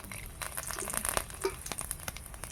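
Garlic cloves frying in mustard oil in a wok, a steady close hiss with scattered crackles and pops, heard alone for a few seconds.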